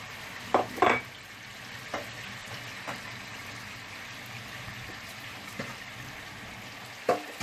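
Thick slices from two large onions dropped into a pot for mutton haleem, giving a soft steady sizzle with a few louder clatters and stirring scrapes near the start and end.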